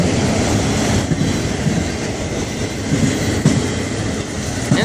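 An FEC freight train with Conrail cars rolls past close by, a continuous loud rumble of wheels with rhythmic clickety-clack on the rail joints and faint squeals, with no talk.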